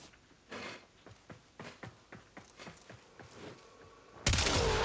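Corinth gun firing in a shooter video game against heavy gunners: about a dozen sharp, evenly spaced shots ring out at a steady rhythm, followed by a loud burst at the end.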